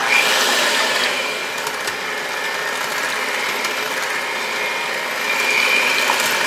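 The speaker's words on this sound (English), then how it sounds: "Grab our mixer again." An electric hand mixer beating sour cream into chocolate cake batter, a steady whirring motor hum with a faint high whine, running continuously at close range.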